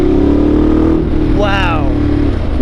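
A Ducati Multistrada 1200 Enduro adventure motorcycle idles steadily close by, then its engine is briefly revved with a rising whine before settling back to a low idle.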